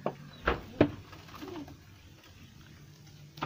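Breeder pigeons coo nearby in a few soft, throaty bursts at the start and end, with a quieter pause between.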